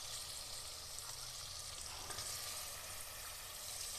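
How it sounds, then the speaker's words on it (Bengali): Meat sizzles as it goes into hot oil with onions in a pan for a Kolkata-style kosha mangsho, a steady, fairly faint frying hiss with no talking. "এবারে দিয়ে দেবো আমি মাংসগুলো দিয়ে দেবো এর মধ্যে"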